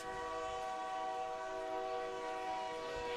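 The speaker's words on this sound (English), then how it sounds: "Train passing by beyond the wall here at Corbett Field, as it always does, sending an echoey horn throughout the ballpark." A freight train rolls past beyond the outfield wall of Corbett Field ballpark during a baseball game, its horn sounding a long, sustained, echoing tone that fills the park steadily throughout.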